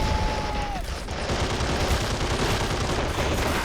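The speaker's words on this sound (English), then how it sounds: "Alright, machine guns opening up." In the World War II strategy game Men of War: Assault Squad 2, distant gunfire from machine gunners in a trench fight blends into a steady, dense roar of battle. A brief whistling tone falls early on.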